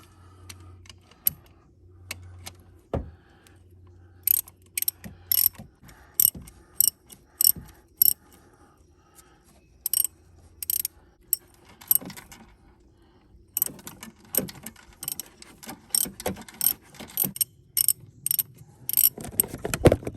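Ratchet wrench with a 13 mm socket working on a 2003 Jeep Grand Cherokee Laredo WJ during a spark plug job: close, bursts of quick clicking ratcheting strokes separated by short pauses, no talking.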